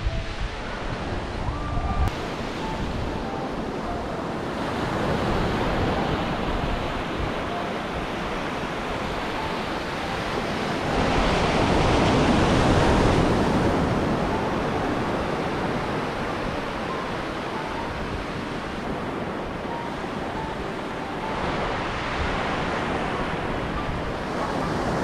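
Ocean surf rolls onto a remote Olympic National Park beach on the Pacific coast as the tide goes out, a continuous wash of breaking waves that swells louder around the middle, mixed with wind buffeting the microphone.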